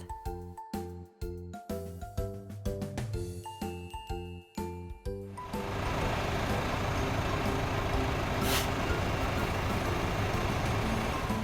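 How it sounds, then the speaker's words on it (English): A school bus idles with a steady, loud diesel engine rumble and hiss, following a stretch of bouncy music. "School bus."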